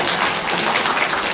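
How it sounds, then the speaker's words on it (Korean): A church congregation at a Christmas worship service claps loudly and steadily, dense applause filling the whole stretch without a break. "박수 한번 주세요. 크게 한번 주세요."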